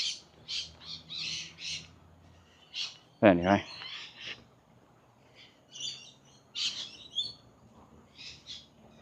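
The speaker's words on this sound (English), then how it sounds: "A lot of parrots, lorikeets, whatever they are." Flock of parrots and lorikeets on an outdoor walk in East Innisfail, Australia, giving repeated high chirps and a louder squawk near the middle, moderately distant, with someone briefly talking.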